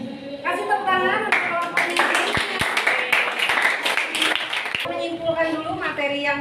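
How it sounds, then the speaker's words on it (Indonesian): A classroom of students claps for a group after its presentation, a brisk burst of many hands that rises and fades, while people talk before and after it. "Kasih tepuk tangan untuk kelompoknya."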